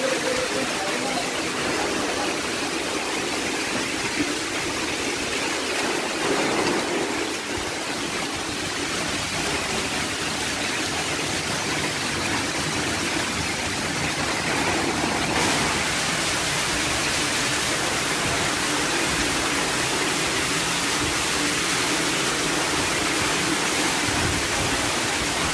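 Heavy monsoon rainwater cascades down the stairs of a house in Hyderabad's Old City, a steady, loud broadband rush like a waterfall that continues unbroken throughout, with no voices.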